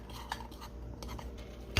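A utensil stirs keto brownie mug cake batter in a mug, making soft repeated scrapes and light taps against the sides, close and fairly quiet, ending with a louder clink.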